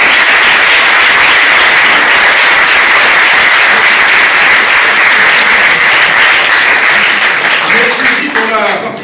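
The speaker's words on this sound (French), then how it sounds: "merci à vous, cher public, pour votre présence et vos applaudissements qui nous touchent particulièrement" An audience applauds steadily and loudly at a French spoken-word performance, a dense sustained wash of clapping that tapers slightly at the end.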